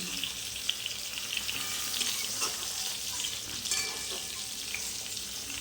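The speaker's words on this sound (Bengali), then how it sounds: "এবারে নুন আর হলুদের সঙ্গে এই বেগুনগুলো আমি খুব ভালো করে ভেজে নেব" Eggplant pieces frying in hot oil with salt and turmeric for a Bengali hilsa curry, a dense, steady sizzle and crackle with occasional brighter pops, close and with no one talking.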